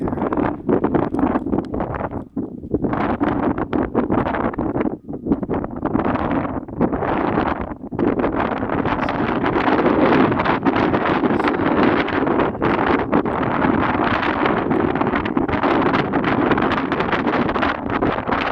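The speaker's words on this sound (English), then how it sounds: "Boy, is it windy." Strong wind at Libby Dam roars continuously and loudly, buffeting the microphone with gusts throughout, with no voices heard.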